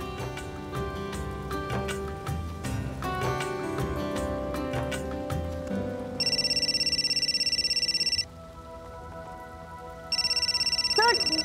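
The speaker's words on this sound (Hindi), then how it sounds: "सर, डॉक्टर मलिका का फोन आ रहा है।" Steady electronic telephone ringing in two loud bursts in the second half, first from about 6 to 8 seconds, then again near the end, over a busy musical background. The setting is a rainy day.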